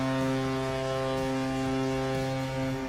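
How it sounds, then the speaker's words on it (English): An NHL arena goal horn for the Las Vegas Knights blares as a steady, deep, loud tone, sustained without a break throughout. "Each one was a long, loud horn."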